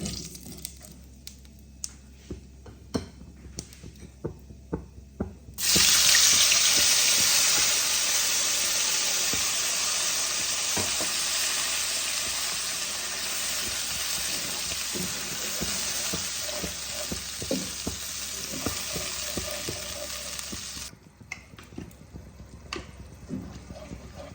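Ground spice paste from the mixer hits hot oil with tempered whole spices for a Bengali chitol fish kalia, bursting into a loud, steady sizzle that holds for about fifteen seconds before dropping away, with light stirring clicks throughout.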